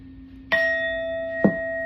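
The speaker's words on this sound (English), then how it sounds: "So we finna hit this bell" A bell is struck twice, each a sharp clang followed by a bright ringing tone that sustains through the quiet gap and overlaps the second strike.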